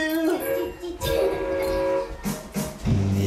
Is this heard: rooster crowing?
no